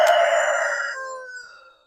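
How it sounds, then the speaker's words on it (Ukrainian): A rooster crows loudly and close by in one long call that tails off toward the end, with no other sounds around it. "Півні, за якими ми всі сумували."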